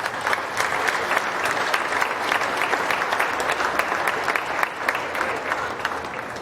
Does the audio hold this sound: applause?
yes